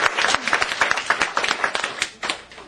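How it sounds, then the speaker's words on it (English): A small audience at a performance and lecture claps in a short round of applause, distinct individual hand claps close by, loose and uneven rhythm, tapering off after a few seconds. "Give George a round of applause."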